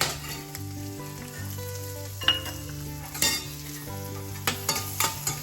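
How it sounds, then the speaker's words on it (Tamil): Chopped garlic frying with spices in a pan for palak paneer sizzles steadily and closely, with a few clinks and scrapes of a utensil against the pan. "அடுத்தது இந்த பூண்டை போட"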